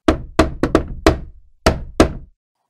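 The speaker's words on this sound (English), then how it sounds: "For a third time, the wolf went to the door and knocked." Knuckles rap on a wooden door in two groups, five quick close knocks then two more after a pause, loud and sharp against silence.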